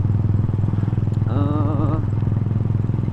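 Old Kawasaki Binter Merzy motorcycle engine running steadily nearby, a low, even rumble with a continuous rhythmic thrum; a short tonal whine rises briefly in the middle.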